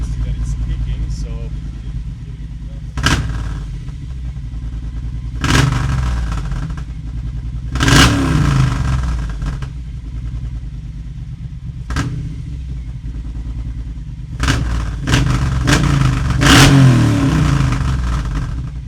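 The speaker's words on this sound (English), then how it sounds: "as expected, the bike is very loud and it sounds pretty amazing" A Triumph Bobber motorcycle, newly tuned and fitted with an aftermarket exhaust, revs loudly in repeated bursts, its engine note rising and falling over a steady idle, with people talking between the blips.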